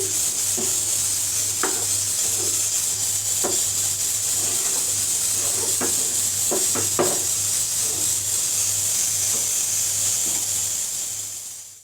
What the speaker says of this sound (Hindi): और मेरा कुकर हो रहा है, तो इसलिए उनकी आवाज़ आ रही है।